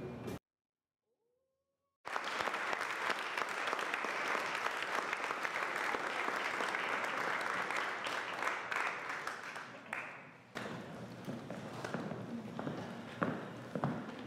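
Applause from an audience after a community theatre performance in Central Brooklyn, starting abruptly after a brief silence and running as steady, close clapping with cheers, then dropping to a slightly thinner level near the end.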